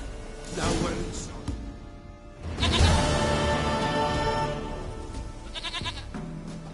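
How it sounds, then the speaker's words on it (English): Goat bleats in The Witcher 3: a wavering bleat near the start and a stronger one midway, over steady game background ambience. "Goat of mine, dearest,"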